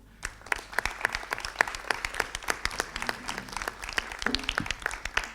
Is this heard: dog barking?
no